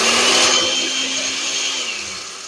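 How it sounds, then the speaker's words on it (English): A blender whirs loudly while powdering dried Pearly Everlasting herb, a steady motor whine that slowly eases down in pitch and level over a couple of seconds. "Put the Pearly Everlasting into the blender"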